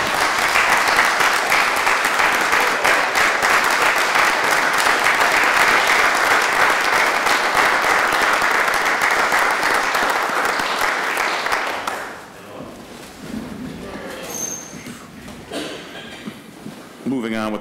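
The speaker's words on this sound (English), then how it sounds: "I'm still going to stand up and clap because that's what we do" Sustained, dense clapping from a standing audience at a city council meeting fills the room loudly and steadily for about twelve seconds, then breaks off into quiet room noise with scattered faint sounds.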